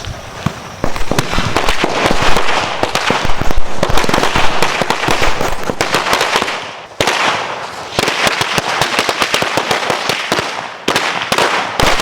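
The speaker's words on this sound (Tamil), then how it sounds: "இந்த மொத்த வாழாவை பார்த்தீங்கன்னா நான் கையிலே வச்சு வெடிக்க போகிறேன்" A long string of firecrackers explodes while held in hand during Diwali, a loud, rapid, crackling barrage of sharp bangs that runs almost nonstop, with one brief pause, and no talking.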